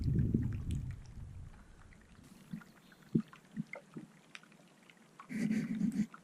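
Small glacier ice growlers calved from the Columbia Glacier crackle and knock against a trawler's hull in a Prince William Sound bay, giving scattered soft pops and thuds over a low rumble of water, with louder sloshing bursts at the start and end.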